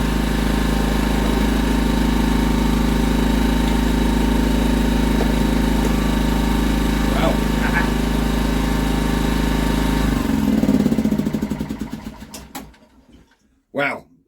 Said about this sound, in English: The so-called scrap Honda generator.